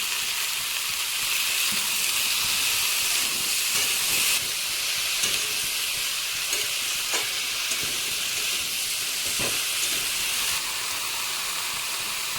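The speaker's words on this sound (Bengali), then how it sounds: "এবারে কিন্তু সমস্ত সবজিগুলোকে একসাথে ঢেলে দিচ্ছি। সামান্য কিছু নুন দিয়ে নেড়ে চেড়ে নেব।" Mixed vegetables with salt sizzle and hiss steadily in a hot pan, a dense frying noise with a few faint stirring knocks, close and constant.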